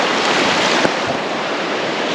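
Wind blowing across a river rushes in a steady, loud broadband roar with rough buffeting against the microphone and one brief knock near the middle; no voices.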